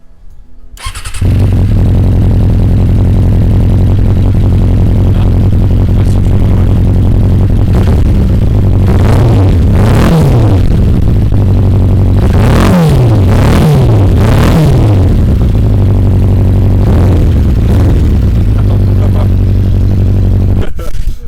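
Suzuki Bandit 600 four-cylinder motorcycle with a modified exhaust starts and idles, then revs up in repeated sharp blips before settling back to idle, loud and close, with occasional talk over it.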